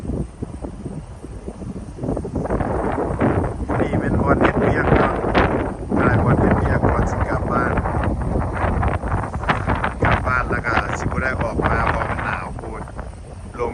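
Cold wind blows steadily against the microphone during a snowfall, a continuous low rumbling buffet with a person talking over it throughout.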